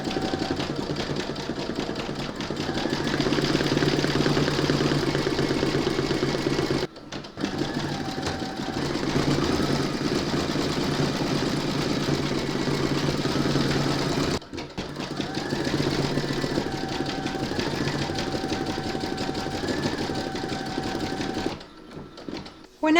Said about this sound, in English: load whichever colour you want for those into your machine, and then you're going to stitch round number 10